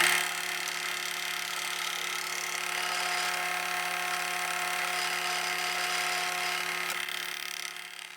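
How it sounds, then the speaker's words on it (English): A steady, high-pitched power drill whine, boring a 1/8-inch pin hole in a hidden tang knife, runs nearly unbroken for several seconds, close and loud, then tapers off at the end. "I'm drilling a 1/8 hole for the 1/8 pin."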